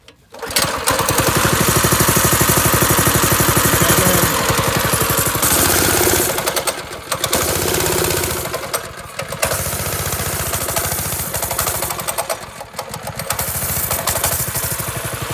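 A small go-kart engine coughs to life after being choked in a backyard, then runs loud and close with a buzzy, uneven note, dipping and surging several times as it struggles to hold a stable idle.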